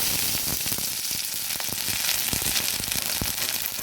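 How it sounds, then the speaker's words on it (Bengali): Ground spice pastes and ginger paste fry in hot oil for a Bengali chickpea curry, giving a steady close sizzle with sharp pops and crackles throughout. "আর একে একে বাটা মশলাগুলো দিয়ে দিচ্ছি দিয়ে দিচ্ছি একটু আদা বাটা"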